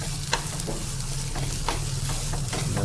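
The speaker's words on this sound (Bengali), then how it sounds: "এটা একদম সুন্দর করে আমি মিক্স করে নেব।" A bhorta mash is mixed in a hot pan: a steady sizzle runs under repeated scraping and stirring strokes, close and fairly loud, with no talking.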